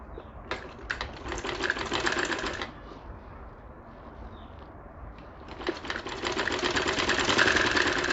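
A sewing machine stitching a kurti neckline, running in two bursts of fast, whirring needle chatter with a quieter pause between them, close and clear, with no talk.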